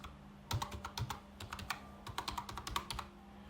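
Keys clacking on a computer keyboard as a username and password are entered during an account sign-up, a steady run of close, crisp keystrokes in uneven bursts with brief pauses and no talk.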